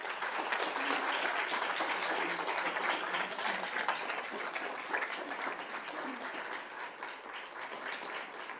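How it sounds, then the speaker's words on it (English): A room at a school district governing board meeting breaks into sustained applause for a retiring staff member, dense clapping from many people holding steady for several seconds before slowly thinning. "I hope you will all join me in a round of applause for Ms. Denise Bainton."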